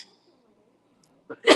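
A single short, sharp sneeze bursts out at the end after near silence, close and fairly loud, during a knitting and crochet group gathering.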